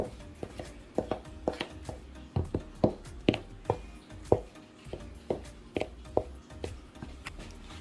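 Fat being cut into flour for vegan Jamaican vegetable patty dough, a steady series of soft, close tapping chops against a bowl or board, evenly spaced and fairly quiet.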